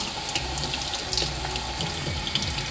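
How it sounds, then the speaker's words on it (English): Tap water running steadily over a plastic garden clog shoe, a close continuous splashing and hiss with small spatters, no voices. "You can see how the water slides off really easily."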